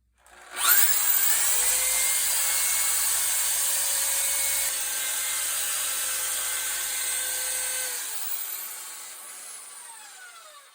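A power drill spins a polishing pad against a wooden pool table rail, a loud steady whir with faint tonal whine starting abruptly, holding for several seconds, then easing and winding down near the end.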